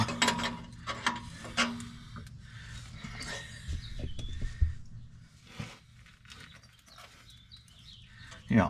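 A 22 mm wrench ratchets an O2 sensor into a car exhaust during installation, giving scattered clicks and metallic knocks at close range, fairly quiet, with breaks of near silence and a louder clunk at the end.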